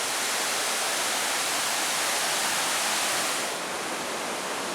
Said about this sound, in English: And here's some more rapids,